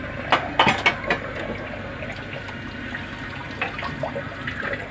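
Running water rinsing soap off dishes at a sink, a steady splashing wash with several sharp clinks and knocks of dishes near the start and again later, close and moderately loud.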